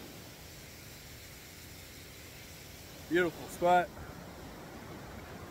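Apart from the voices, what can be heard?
waterfall flowing at Pine Island Double Falls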